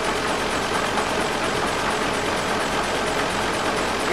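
Airship engine of a Final Fantasy IX fan production starting up, a steady droning mechanical hum with a faint tonal whine that holds evenly throughout, fairly loud and alone with no voices.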